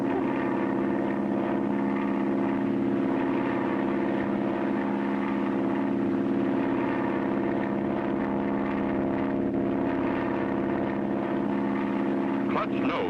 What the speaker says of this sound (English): Clutch knows that the only way he can bring his plane down on the water with one float is to make a high-speed power landing.